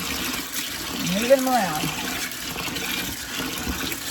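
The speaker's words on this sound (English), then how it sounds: "We're just going to get these filled with cold water." Cold water runs into a kitchen sink over dry pinto beans, a steady rushing pour close by, with a person talking over it.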